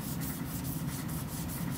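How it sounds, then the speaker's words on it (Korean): Steady rasping rub of sandpaper worked back and forth over a wooden sofa frame, close and continuous with a faint rhythmic pulse of strokes. "계속 샌딩을 치면서 면도 잡고 가공을 해주는 거예요."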